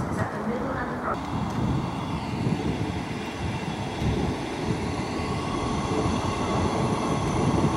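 Onboard ride on a Dean Forest Railway train, with steady rumbling wheel and carriage noise throughout, muffled and continuous, and some voices in the background.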